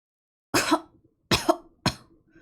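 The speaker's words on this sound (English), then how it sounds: "I heard coughing from behind the wall." Three distinct coughs from a character in the otome visual novel Virche Evermore, each a sharp, close burst followed by a short rasp, spaced about a second apart against silence.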